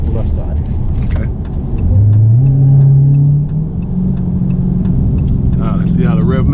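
2019 Dodge Challenger Hellcat Redeye engine in track mode rises in a deep revving rumble, holds, then settles to a lower drone, heard from inside the car with light clicks.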